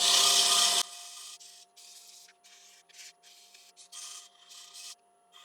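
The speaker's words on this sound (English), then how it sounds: "we'll just give it a rub of 320" Short rubbing strokes of 320 grit abrasive against a small turned wooden Christmas ornament, a series of soft, close scratchy bursts after a louder opening whoosh, with a steady lathe hum underneath.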